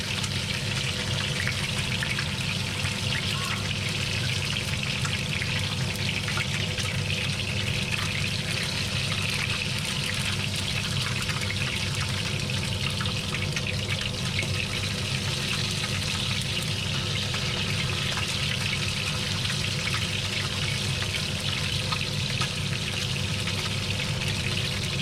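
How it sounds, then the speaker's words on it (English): A coral trout fillet fries in hot oil with a steady, dense sizzle and crackle that holds evenly throughout at a moderate level, with no talk over it. "So it's been frying for about a minute, if that."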